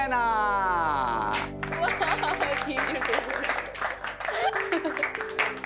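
A television show audience breaks into applause, a dense spread of clapping that starts after a sustained musical tone and carries on steadily close by, with a voice talking over it.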